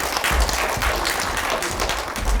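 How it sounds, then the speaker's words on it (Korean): A crowd claps steadily at an academic forum as a speaker is introduced, a dense wash of applause filling the room for a couple of seconds. "큰 박수 부탁드립니다"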